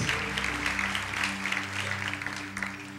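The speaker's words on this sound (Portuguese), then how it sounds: "Dê uma salva de palmas" Audience applause at a youth church congress, a steady wash of clapping from a crowd held at moderate loudness for several seconds over a low sustained musical drone.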